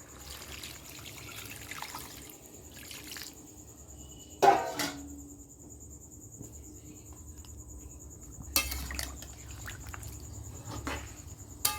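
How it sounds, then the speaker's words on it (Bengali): Water poured into a pot of chicken curry, with a splashing pour around the middle, another burst later, and quiet trickling and background sounds between. "জল দিয়ে দিই জলটা দিয়ে দিচ্ছি দেখো"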